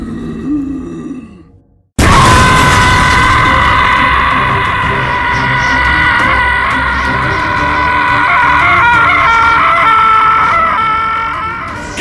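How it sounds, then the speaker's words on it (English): Screaming in a cartoon movie: after a short, quieter lead-in and a moment of silence, one loud, strained, sustained cry holds for about ten seconds before fading slightly. "Scream! That's all you're ever good for!"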